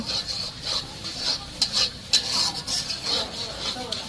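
Duck meat is sautéed with whole garam masala of bay leaf, cardamom, cinnamon, cloves and black pepper, giving a busy run of spatula scrapes and clinks against the pan over a low, steady sizzle.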